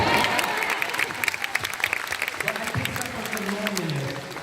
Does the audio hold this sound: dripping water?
no